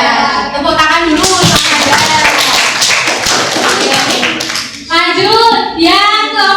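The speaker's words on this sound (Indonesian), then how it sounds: "Tepuk tangan dulu" A classroom of students claps their hands together in a loud burst, with voices chanting or calling out at the start and again at the end.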